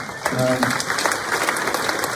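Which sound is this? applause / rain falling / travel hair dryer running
applause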